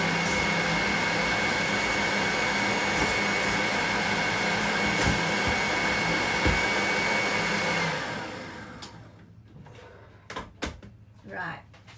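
An electric stand mixer whirs steadily and loudly while whisking blondie batter for about eight seconds, then stops, leaving a few clunks and handling noises.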